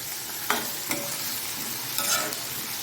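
Onions and tomatoes sauté in a pan for a dried anchovy curry, a soft continuous sizzle broken by a few sharp scrapes and clacks of a stirring spoon.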